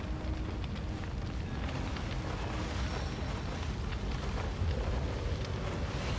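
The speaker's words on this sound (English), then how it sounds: "let's help these guys with a rain spell" Rain conjured by a spell in the video game Divinity: Original Sin pours down as a steady, dense hiss, with low rumbling underneath, continuous and even throughout with no voices.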